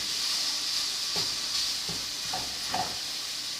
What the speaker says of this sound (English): After 5 minutes of sauteing this chorizo